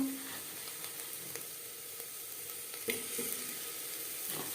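Mutton trotters stirred with salt and turmeric in a hot pan, sizzling steadily with soft scraping and a couple of sharper knocks from the spoon, close up with no talk.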